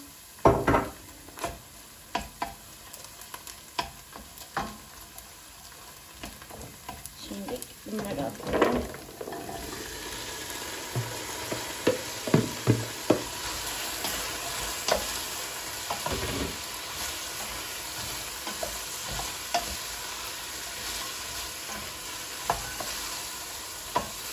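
Onions sauté in a pan with tomato paste, giving a steady close sizzle that grows denser partway through, broken by repeated sharp scrapes and knocks of a spoon against the pan.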